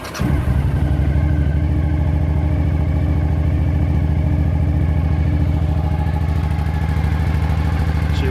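A Suzuki DL1000 V-Strom motorcycle engine catches and settles into a steady, loud idle with a low rumbling throb and light mechanical clatter throughout.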